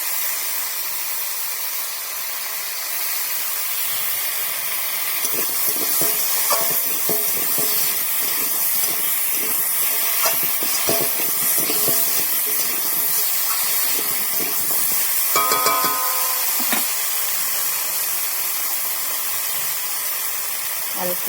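Potato curry with cabbage fritters frying in a pan, a continuous loud hiss with scattered stirring knocks and scrapes, close up.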